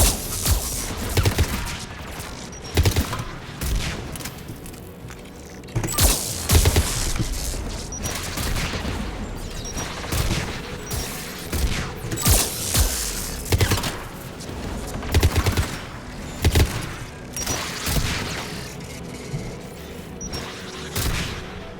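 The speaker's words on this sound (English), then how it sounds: "AA guns ahead." AA guns firing in Mass Effect 3 give a continuous barrage of booming, cracking shots at an uneven rhythm, with louder thumps standing out over a constant rumble and no speech.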